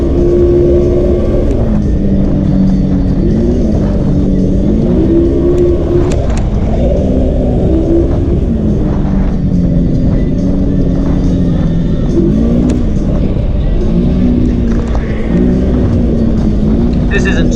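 A motorcycle engine drones steadily at about 50 on a straight, wide Hatfield-McCoy trail, with wind rush, its pitch rising and falling as the throttle shifts, loud and continuous throughout.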